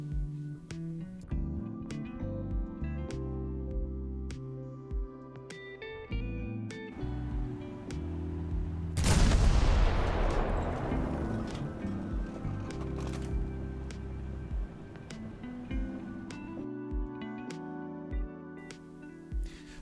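A tank cannon in the War Thunder video game fires once midway, a loud sharp boom with a long rumbling decay, heard over steady background music.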